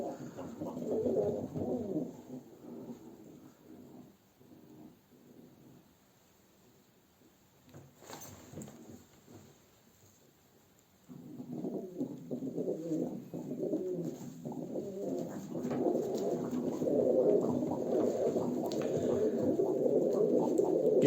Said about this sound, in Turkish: Zaten burada kuşlarımızı eşe attık.